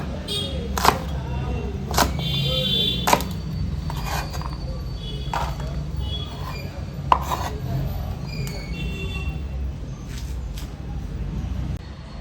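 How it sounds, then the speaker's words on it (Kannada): A knife trims the stem ends off a bunch of cluster beans lined up together, giving sharp, irregular chopping taps on a board over a steady low background hum. "ಎಲ್ಲ ಗೋರಿಕಾಯಿನ ಈ ರೀತಿಯಲ್ಲಿ ಜೋಡಿಸ್ಕೊಂಡು ಅದರ ತೊಟ್ಟನ್ನು ತಗೊಳ್ಳೋಣ ಕಟ್ ಮಾಡ್ಕೊಳ್ಳೋಣ"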